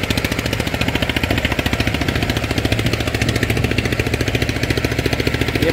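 A single-cylinder Eicher 241 tractor engine runs a grain thresher, a steady loud rapid thumping chug with an even rhythm throughout and no voices.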